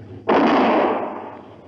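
Gunshot in a 1959 radio western drama: one sudden loud blast with a long, broad decaying roar, close and alone for over a second.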